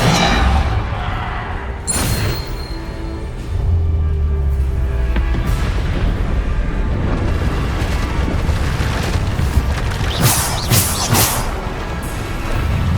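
Repeated booming blasts of the Bombarda explosion spell in Hogwarts Legacy, heavy low rumbles and bursts recurring through a loud, busy combat mix with no talk.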